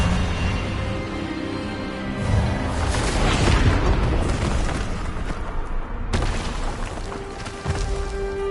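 Casting the Expelliarmus disarming spell in Hogwarts Legacy brings a swelling, rushing magical burst that peaks midway. A sharp impact follows, then a lower rumbling tail under steady game ambience.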